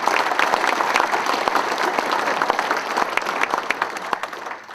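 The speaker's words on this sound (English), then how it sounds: "And help me give them a round of applause." Audience at a farm community event applauding beginning farmers, a dense, steady wash of clapping from a crowd lasting several seconds with no talk over it.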